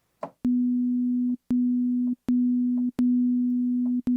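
A pure, low synthesized tone plays in repeated sustained notes, each starting with a sharp click and stopping briefly before the next, five times in a row.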